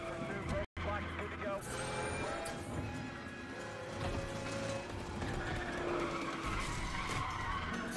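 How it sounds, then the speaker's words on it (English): Car tires screech and skid through a drift in the racing game Need for Speed: The Run, a continuous loud squeal over a roaring engine and road noise, with a brief dropout near the start. "If you lose your grip, the car starts drifting."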